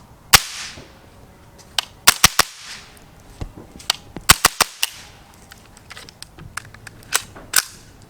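Gunfire through a Mask Dead Air suppressor, firing 115 grain rounds from a short 8 or 9 inch barrel: a quick, irregular string of sharp, close cracks, some in tight clusters, with short decays and no voices.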